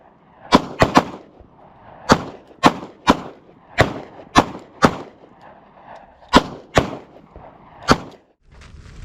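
Handgun fire rings out on an outdoor range during church safety team training: about a dozen sharp, loud shots in irregular pairs and singles, with short gaps and brief echo between them.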